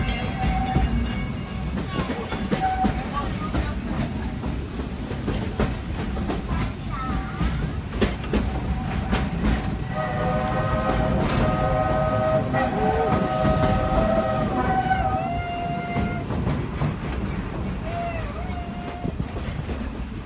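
A Magic Kingdom railroad train rumbles steadily along the rails with clanking and squealing, its horn sounding in long tones midway through, with faint voices in the background.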